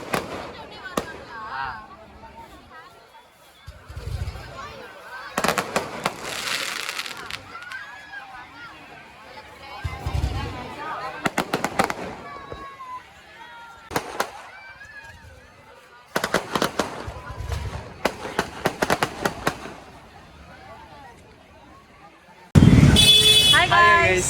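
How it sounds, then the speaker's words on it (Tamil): Bastille Day fireworks in Pondicherry burst in loud, sharp cracks and crackling volleys, some clustered in rapid bursts, while a lively crowd chatters and people talk nearby between the explosions. "வெடிக்கிறாங்க பார்த்தியா இல்லையா?"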